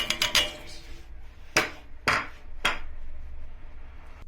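Lentils pouring into a pot of boiling water make a quick rattling clatter at first, then three sharp, separate clinks against the pot over a low simmering hiss.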